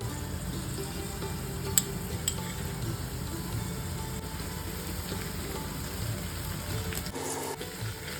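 Ground spice paste with onion, green chilli and salt sizzles and fries steadily in a pan, with a continuous dense crackle and a brief louder stir near the end.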